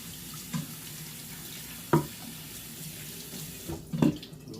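Water runs steadily from a kitchen tap while a cutting board is rinsed during tamale preparation, with a few soft clunks of the board against the sink, no talking.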